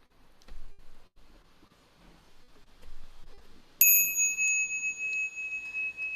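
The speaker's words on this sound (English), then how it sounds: "Bell sound" A single bright bell strikes once after a few seconds of quiet room rustle, then rings on with a clear sustained tone that lingers to the end.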